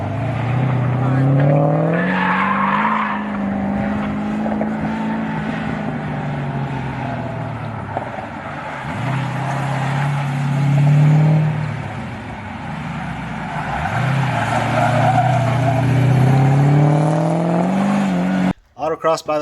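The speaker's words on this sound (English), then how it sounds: "I did the autocross. I made 8 laps around the track." An LS V8-swapped Nissan 240SX with a T56 manual gearbox is driven hard around an autocross course, its engine rising and falling through repeated revs and shifts, loud and sustained throughout, with a brief cutoff near the end.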